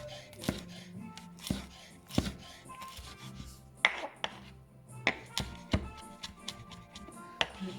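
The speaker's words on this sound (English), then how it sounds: "let me just chop up a little bit. So I'm going to use some lavender." Dry lavender is chopped with a knife on a board, giving irregular sharp chops close by with short pauses between them, and a voice talks quietly between the cuts.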